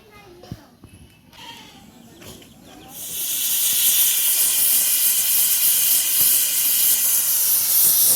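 A pressure cooker full of chickpeas for a Ramadan iftar dish lets out a loud, steady hiss of escaping steam. The hiss starts abruptly partway through and keeps going to the end, after some quieter kitchen sounds.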